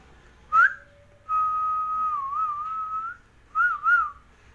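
A person whistles alone up close: a short opening note, then a long sustained wavering tone, then two quick rising-falling trills, clear and loud over a quiet background.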